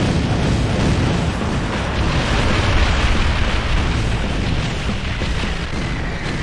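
Continuous roaring, rumbling blasts of mortar fire fill a medieval battlefield in Kingdom Under Fire: The Crusaders, a dense, loud wall of booms with no pauses and no voices.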